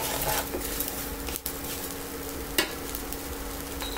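Spices for homemade spicy karam podi are dry-roasted and stirred in a pan, giving a steady rustling scrape with a couple of sharp clinks of the utensil against the pan.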